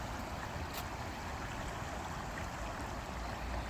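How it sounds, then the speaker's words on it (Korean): Steady rushing of a stream swollen after rain, heard from a short distance as a continuous even wash of water, fairly faint, with no talking. "어제 비가 와서 물의 양이 늘었나봐요. 이렇게 소리가 여기까지 들려요."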